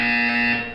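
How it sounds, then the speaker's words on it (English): Buzzer in the Portal 2 video game, a loud, harsh, steady electronic alarm tone that holds evenly and then fades slightly at the end, with no voices. "When you hear the buzzer, look down at the floor"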